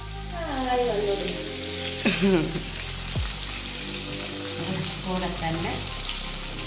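Ginger, green chili and shallots fry in hot oil for upma, a loud steady sizzle with occasional stirring and scraping, and a voice speaks briefly over the cooking.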